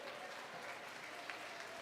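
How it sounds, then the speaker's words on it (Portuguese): A church congregation applauds during a sermon, producing a faint, distant, even patter of clapping that continues without a break for the short span. "pode aplaudir isso, aplaude"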